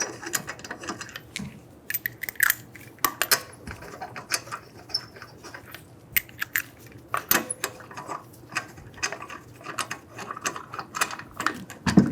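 Ratchet wrench clicking in quick bursts while tightening wheel lug nuts on a 2011-2014 Hyundai Sonata, close and sharp, with pauses between runs.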